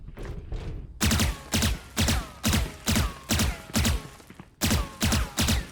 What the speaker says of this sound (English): he is warming up his spray